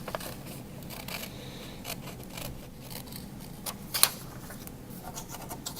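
Scissors cut out a paper self-portrait, a steady run of close, crisp snips and soft paper rustle, with one brighter clack near the end.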